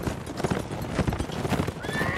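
Horse hooves clip-clop in a rapid galloping rhythm in the medieval battle game Mount and Blade, joined by a loud neigh and whinny near the end, with faint talk underneath.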